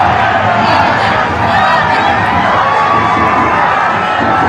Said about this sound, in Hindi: पीएम को देखने के लिए, अपने कैमरे में कैद करने के लिए सड़क के दोनों तरफ भारी भीड़ थी।